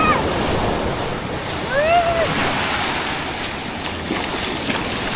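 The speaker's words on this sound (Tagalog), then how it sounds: "Bakit naman ganito ang alon niya?" Ocean waves wash onto the shore at a beach resort in Aurora Province, a continuous near rush of surf with wind buffeting the microphone, a brief chirp and faint voices underneath.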